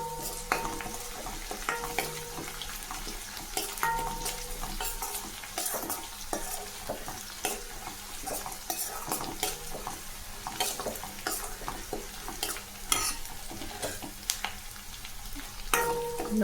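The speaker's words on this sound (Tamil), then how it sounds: "இந்த வெங்காயம் நல்லா செவந்து வர மாதிரி வதக்கலாம். கறிவேப்பிலை போட்டுக்கலாம்." Onions sautéing with curry leaves in a pan for a potato fry, a steady sizzle under frequent spatula scrapes and light clinks against the pan, heard up close with no talking.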